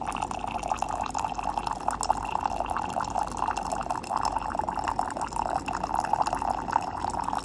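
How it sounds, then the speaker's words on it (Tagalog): Boiling water pouring from a hot water dispenser, a continuous close trickle with fine splashing and dripping, steady and fairly loud, with no talk. "Boiling water. Water is dispensing."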